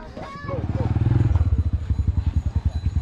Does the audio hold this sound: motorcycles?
yes